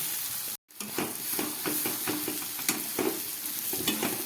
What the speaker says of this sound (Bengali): এবার দিয়ে দিচ্ছি হাফ চামচ মতো ঘি এবার আরও খানিক্ষণ কষাবো এটাকে